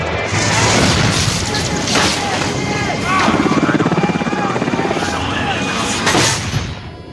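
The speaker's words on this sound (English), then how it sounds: "Sam's helicopter is shot down" Helicopter going down in a TV drama scene, a loud continuous rotor roar packed with crashes and impact booms, dense and intense throughout with voices mixed in.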